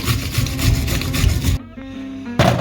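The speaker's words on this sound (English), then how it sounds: "I'm going to clean this up best I can. Get a lot of that welded or rust" A Chevy Tracker strut is scrubbed to clear off rust, with close, loud rhythmic rasping strokes that pause briefly before resuming.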